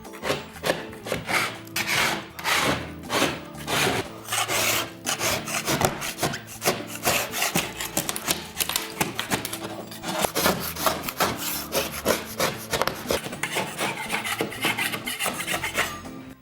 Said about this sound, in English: we will use the putty knife to scrape areas that are poorly adhered